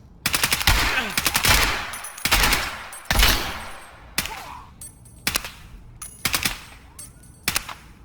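Shotgun and other gunfire in Escape from Tarkov ring out in loud, sharp blasts and short rapid bursts, spaced irregularly across the stretch with echoing tails and no talk.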